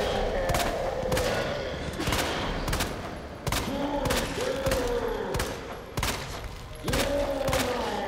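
Rapid bursts of gunfire from the Resident Evil 2 Remake video game, loud and repeated in uneven volleys with brief gaps, dominating the mix without talk.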